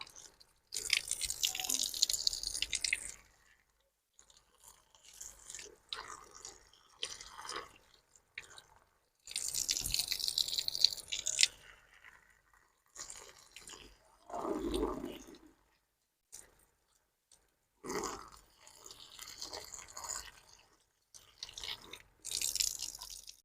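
Mushrooms washed one by one in a bowl of water, with splashing, dripping and wet squishing coming in separate bursts and pauses, close and moderately quiet.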